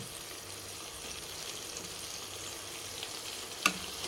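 Ingredients fry in a pan with tamarind, giving a constant close sizzle throughout and a single sharp utensil tap near the end.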